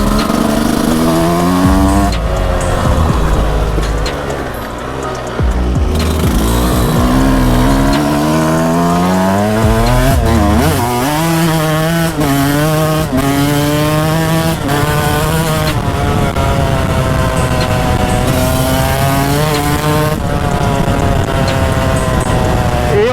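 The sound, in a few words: 125cc Spanish enduro motorcycle engine revving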